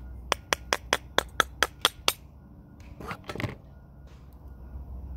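Nine crisp, evenly spaced taps of a brass hammer's wooden handle against a carburetor, followed by a brief scrape and rattle.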